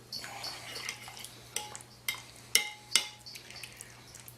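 A spoon stirs vinegar into Greek lentil soup in a pot, giving a series of light metallic clinks and scrapes against the pot, spaced irregularly over a low steady hum.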